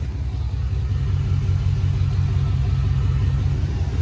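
Chevy 5.7 V8 running after an intake leak repair, a steady low rumbling idle with an even throb, close and continuous with no voices.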